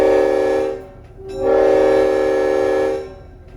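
A heritage railroad locomotive heard from inside the cab on a tree-lined run near the end of the track, with a steady loud horn-like tone that briefly dips and then swells again before fading.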